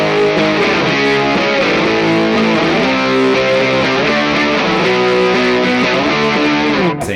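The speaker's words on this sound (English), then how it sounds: "And then I hit a distortion." Electric guitar with distortion engaged on a Mooer preamp, thick saturated chords ringing steadily and loud for several seconds, close up, cut off abruptly near the end.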